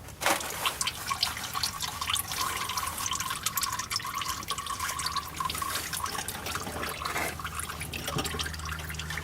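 Engine oil draining from a loosened oil filter on a diesel truck into an oil pan, a steady continuous liquid pour and trickle with dripping, close and fairly loud throughout with no talk.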